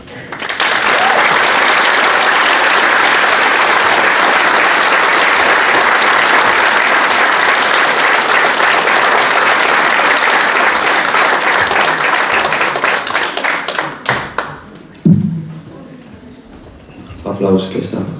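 Sustained audience applause at a school concert and ceremony marking the Estonian Republic's 102nd anniversary, dense steady clapping for about fourteen seconds that breaks into scattered claps and fades.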